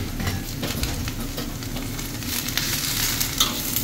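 Fried fish cake is stirred in a hot pan, giving a loud, continuous sizzle and frying crackle with scraping stirs mixed in.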